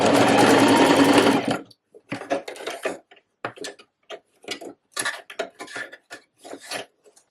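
Sewing machine stitching a waistcoat seam, running steadily for about a second and a half and then stopping, followed by a series of short clicks and taps from the machine as the stitching is reversed at the end.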